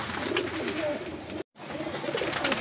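Racing pigeons cooing softly at a loft in Rosario, La Union, after a race, low murmuring coos over a continuous outdoor background, with a brief silent gap midway.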